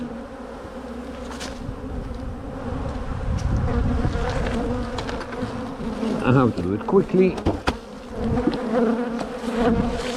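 A dense, steady buzz of many honey bees around an open hive fills the air close by, continuous throughout, while a person speaks briefly over it.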